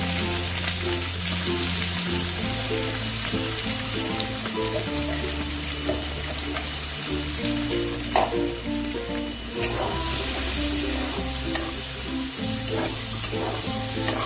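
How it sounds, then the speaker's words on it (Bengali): Chopped onions sizzle steadily in a hot pan with garam masala while an Indian chicken korma is cooked, with occasional stirring and faint background kitchen noises, loud and continuous throughout. "সেই কুচানো পেঁয়াজকে দিয়ে দিলাম"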